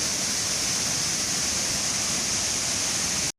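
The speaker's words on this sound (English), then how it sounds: "The eye-level waterfall was seen to be active once again amid high rains." Eye-level waterfall running strongly after heavy rains in Sri Lanka: a loud, steady rushing roar of falling water, unbroken and broadband, cutting off abruptly at the end.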